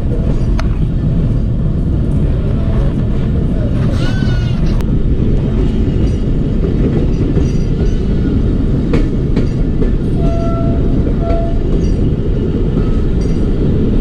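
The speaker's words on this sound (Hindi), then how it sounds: "चमन रेलवे स्टेशन पे एंटर हो रही है हमारी ट्रेन" A Pakistan Railways passenger train arriving at Chaman station rumbles steadily with rattling clatter of the wheels on the rails, close and loud, with occasional squeals and brief high whines over the din.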